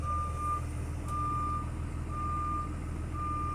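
A school bus backing up in a straight line on a CDL road-test course sounds a steady, evenly spaced reversing beep over a low idling engine rumble, with no voices.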